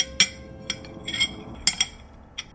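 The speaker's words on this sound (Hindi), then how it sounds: "जैसे कोई बर्तनों से छेड़छाड़ कर रहा हो, ऐसी आवाज़ आती है।" A few sharp metallic clinks scattered irregularly against a quiet background, like kitchen utensils or dishes lightly knocking together.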